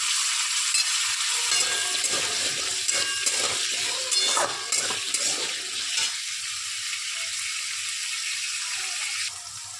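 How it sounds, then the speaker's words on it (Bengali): Potatoes fry in oil on a low to medium flame after paneer has been fried in the same oil, giving a steady bright sizzle with occasional stirring scrapes that eases slightly toward the end. "তো লো টু মিডিয়াম হাই ফ্লেমে আলুগুলো ফ্রাই হচ্ছে।"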